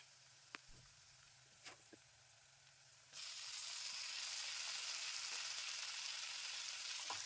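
Onions and finely chopped tomatoes frying in oil for an avarekalu (field bean) palya: a few faint taps and scrapes, then an abrupt steady loud sizzle that carries on without letup.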